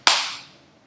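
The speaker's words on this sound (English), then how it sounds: "I applaud you." A single sharp hand clap, close and fairly loud, with a quick attack and a short fading tail, alone without any talk.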